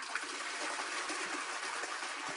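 A suction toilet like an airplane toilet flushes with a steady rushing, hissing whoosh of water and air that holds at an even level for a couple of seconds.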